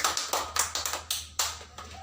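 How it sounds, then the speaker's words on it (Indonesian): A class of children claps hands together in a classroom, a quick run of sharp, fairly close claps in a loose rhythm that ends after about two seconds. "Tepuk tangan dulu"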